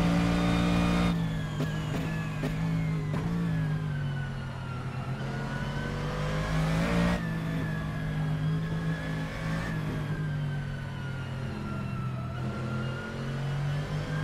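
An S5000 race car engine in Assetto Corsa at Tailem Bend screams through high revs, with sharp gear shifts and repeated rising and falling pitch sweeps as the car accelerates and brakes, loud and close throughout.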